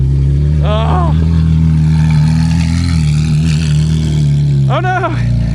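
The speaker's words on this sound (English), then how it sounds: "the downshifts go boom. I know. Oh Isn't my. that crazy? Dude, it like echoes off everything. It is epic. This exhaust." A Ferrari 458's exhaust roars and booms steadily with a deep engine drone, while people talk and exclaim excitedly over it.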